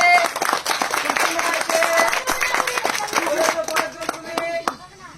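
A live audience breaks into loud, rapid applause at an outdoor game event, with many hands clapping together while a presenter speaks over it and the clapping tapers off toward the end.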